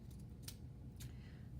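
Scissors trim fabric in two quick, quiet snips about half a second apart over a low background hum.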